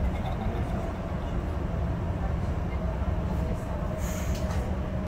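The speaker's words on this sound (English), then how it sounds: "is a quite modern train, and looks really beautiful" A modern Polish regional train rumbles along with a steady low drone and rolling wheel noise, a continuous interior ride sound with no talking.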